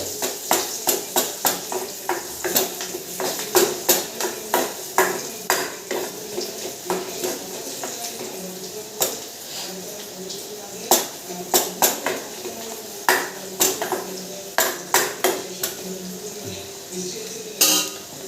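Chillies frying in a pan on a gas stove, stirred with a spoon that clinks and scrapes against the metal in a steady run of sharp taps over a soft sizzle, close and fairly quiet.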